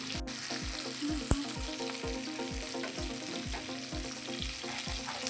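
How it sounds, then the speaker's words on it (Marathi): Bangda mackerel coated in rava fries steadily in a pan, a continuous sizzle with soft regular ticking pops throughout, moderately close and with no voices. "तर हे दोन ते तीन मिनटं हलवायचं नाही आहे असे छान भाजून घ्यायचे"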